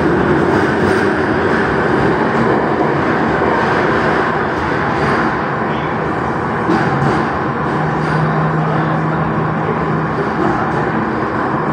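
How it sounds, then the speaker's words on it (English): Loud, steady roar of a Jakarta MRT train running on rails from inside the carriage, with a rising whine as it picks up speed. "See, now the train is speeding up."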